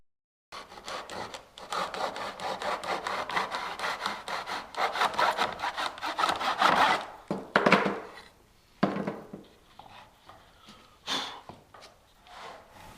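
Cornice cradled in a long miter box is sawn with rapid, rhythmic back-and-forth handsaw strokes, close and steady, then slowing into a few separate scraping strokes as the cut finishes.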